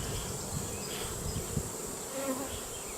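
A crowded honey bee colony hums during a hive inspection, a soft, continuous buzzing with faint individual bees passing close, quiet and without any talking.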